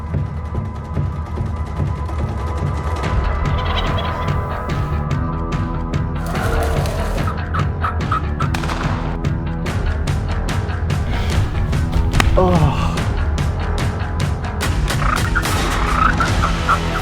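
Rio wild turkeys gobble from a roost area with hens, jakes and a longbeard nearby, loud bursts of gobbling repeating over about seventeen seconds amid a busy, dense outdoor background.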